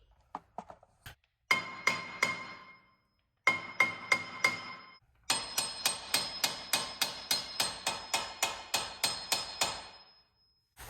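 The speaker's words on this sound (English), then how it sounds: "just use your great-grandfather's hammer that's over 100 years old and beat the crap out of the hat" Repeated metallic blows of an old hammer on a car brake rotor hat ring out in bursts, sharp clanging strikes with bright resonance, growing into a long steady series of hits.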